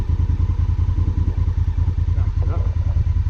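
Honda Africa Twin 2016 motorcycle ridden with traction control switched off, its engine a steady close rumble with a pulsing low thrum and light clatter throughout.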